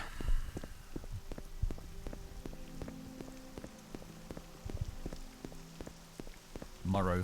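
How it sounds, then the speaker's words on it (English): Rain falls in the video game Morrowind, a steady patter of drops spattering on surfaces with faint game ambience beneath it, close and moderately quiet for the whole stretch. "Oh goody, it's raining."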